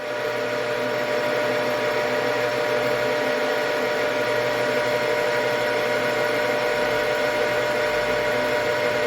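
A metal lathe cuts with a shop-made dovetail cutter, giving a steady, loud mechanical whir with a constant high whine and broadband hiss that runs unbroken from start to finish, close up and with no voices.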